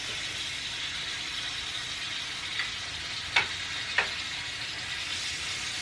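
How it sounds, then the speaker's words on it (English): Chicken fajita strips with tomatoes and marinade juice sizzle steadily in a hot pan, a continuous close hiss with a few sharp pops and crackles breaking through near the end. "you can hear the sizzle"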